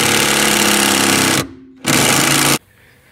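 A power tool loosens a suspension bolt on a Honda Civic, giving a loud, close, rattling impact burst of about a second and a half, then a short pause and a second burst of under a second.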